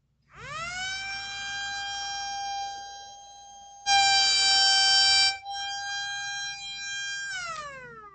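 A small handmade Thunderbolt 1000T-style siren driven by a little air, winding up to a rising wail, holding steady, then jumping briefly louder and harsher before settling back and winding down at the end.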